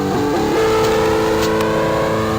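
Stock motor on a 1970s-style minibike with mag rims revs loud and close, a steady buzzing engine note that rises once and then holds high throughout.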